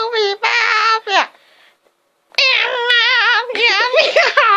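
A voice imitates a cat, meowing in long wavering cries: a few quick meows, a short pause, then a longer run of wobbly meows, close and loud.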